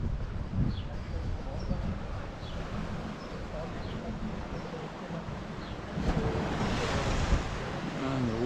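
Waves surge and splash against rocks at Sant Elm, Mallorca, with a continuous rush of water and wind noise, louder bursts near the end.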